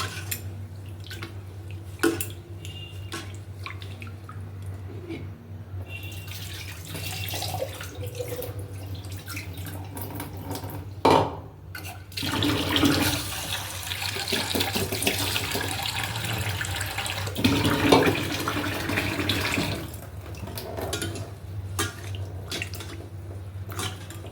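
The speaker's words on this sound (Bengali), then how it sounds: "ভালো করে রাইসটা ধুয়ে নিই" Rice is washed under a running tap, with water splashing and swishing in a bowl, interrupted by brief pauses and surges as the grains are rinsed and drained.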